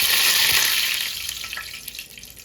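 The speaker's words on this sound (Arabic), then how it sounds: "شوف الزيت بتاعنا غلي كده" Hot oil bubbles and hisses loudly in a pan before cauliflower goes in, a dense steady sizzle that slowly eases, with no one talking.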